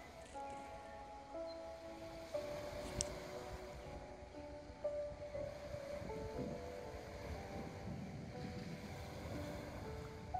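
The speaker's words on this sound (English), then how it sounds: "notice the rhythm of ocean, the flow of water" Ocean waves wash and roll in a low, rumbling surge with wind noise buffeting the microphone, a steady, moderately distant churn with a few louder swells and no talk.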